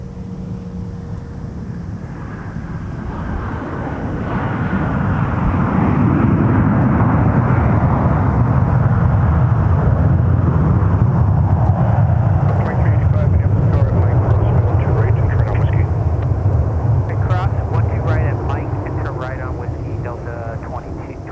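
A Boeing 737-900ER airliner arriving from Liberia, Costa Rica, at Minneapolis–St. Paul airport makes a long, heavy jet rumble that swells, holds and slowly eases, with radio voices talking over it.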